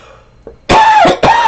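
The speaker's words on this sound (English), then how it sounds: "I was so hoping to get through this reading without having a coughing attack" An allergy-stricken person, irritated by cottonwood fluff in the air, gives a small throat catch and then two loud, harsh hacking coughs up close, back to back.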